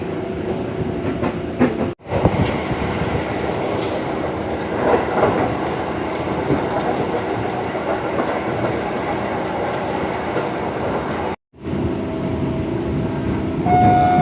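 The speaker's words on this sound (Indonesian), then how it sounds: "Kereta kargo." A cargo train rolls through Kampung Bandan station in Jakarta, a loud, steady rumble with clattering wagons for the whole stretch, broken only by two brief dropouts.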